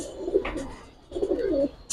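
Giribaz pigeons give soft, throaty coos in two short rolling phrases close by, a young hen among the pair, with a faint click at the end.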